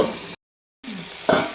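Stirring raw jujube chutney with turmeric in a hot pan gives a close sizzling, scraping sound in two short bursts split by a gap of silence, the second ending in a brief louder scrape.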